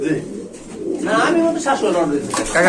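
Pigeons at a market selling black dragon and white Spanish breeds coo softly and repeatedly close by, partly under people talking.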